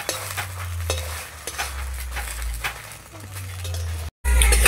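Til kheer patishapta pancakes fry in a pan with a soft continuous sizzle, and a utensil scrapes and taps against the pan at intervals close by.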